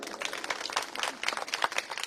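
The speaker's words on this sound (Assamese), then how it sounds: "আপোনালোকৰ বাবে হাত চাপৰি।" An audience at a gathering applauding, dense overlapping handclaps that carry on steadily and fairly close throughout.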